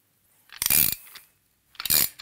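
A Motion Pro tool with a thinner socket presses a linkage bearing into place, giving two short, close ratcheting mechanical grinds separated by a pause.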